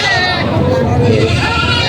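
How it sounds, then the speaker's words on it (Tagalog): Goats bleat at a busy livestock market, their cries mixed into a dense background of people talking nearby. "Ang dami pa rin paparada ngayon dito ng mga kambing."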